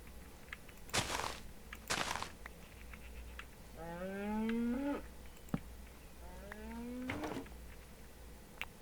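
A cow in the video game Minecraft lets out two drawn-out moos a couple of seconds apart. They sit over quiet game ambience with a few thumps and clicks around them.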